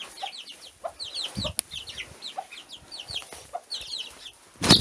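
Chicks cheep in rapid, high chirps over soft clucking from a nearby rooster chick, with a brief louder thump near the end.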